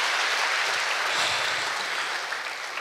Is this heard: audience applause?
yes